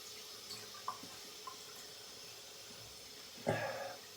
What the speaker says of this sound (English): Going to wet the face.